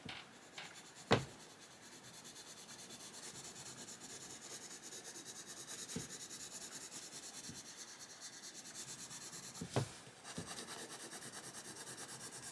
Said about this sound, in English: I've got a Caran d'Ache pencil blender. I'll use that down here.